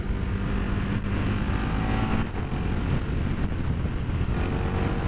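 A 2021 KTM 1290 Super Duke R motorcycle rides along, its engine a loud, sustained roar mixed with heavy wind rush, steady throughout with no talk.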